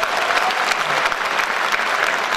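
A crowd at a Hindi comic poetry gathering breaks into loud, continuous applause, dense clapping holding steady from start to finish.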